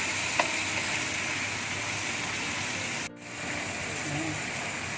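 Leafy vegetables being stir-fried in a wok for village-style fried noodles, giving a steady, loud sizzle throughout with a brief dip partway and faint clinks.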